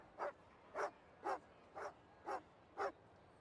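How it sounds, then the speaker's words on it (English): Dog woofing in the video game Genshin Impact: six short, evenly spaced barks, clear and fairly close, with quiet gaps between them and no talking. "The Guardian is woofing."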